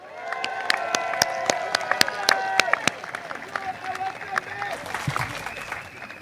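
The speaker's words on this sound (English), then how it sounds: "Can I have one round of applause for our NCMP," Clapping and cheering rise from a crowd at an outdoor Singapore election rally in Marymount, with sharp claps in the first half under an amplified voice and tonal background sound before the claps thin into a murmur.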